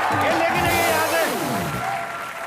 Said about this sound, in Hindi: पाजी के लिए जोरदार तालियां आप बजा ही चुके हैं।